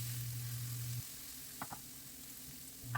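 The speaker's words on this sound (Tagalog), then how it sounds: "Pagkaraan ng 1 minuto ay ilagay ang garlic at igisa hanggang maging light brown" Ginger and garlic sauté in oil in a pot while cooking chicken curry, giving a steady, even sizzle throughout with a couple of faint stirring clinks and a low hum at the start and end.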